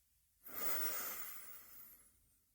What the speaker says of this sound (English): take a deep inhale through the nose